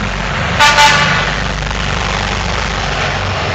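A truck horn gives a short double honk over a loud, steady engine rumble that continues afterward.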